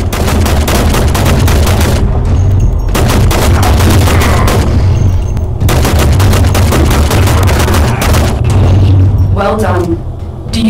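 Rapid bursts of primary-weapon gunfire hit targets in the Warframe video game, loud and continuous with short pauses between volleys, a voice speaking over parts of the shooting.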